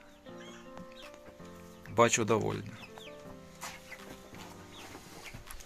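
Chicks and hens on a farm cluck and peep close by, with a sudden louder burst of clucking midway and softer calls around it, while people talk over the birds.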